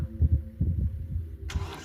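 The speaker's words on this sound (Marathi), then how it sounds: "तर चला ट्रॅक्टर स्टार्ट करू। फुल क्लच स्टार्ट।" A tractor engine cranks and fires up with the clutch fully pressed, chugging in low pulses before catching into a louder, fuller running roar near the end. It is close and fairly loud, with no talk.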